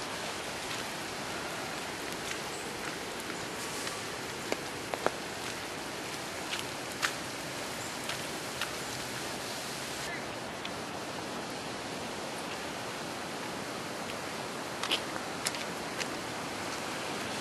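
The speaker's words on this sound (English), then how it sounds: "Here we are in rainy Central Park." Steady rain falling across Central Park in New York City, a dense even hiss with scattered faint drips and ticks, heard while walking, with no talking.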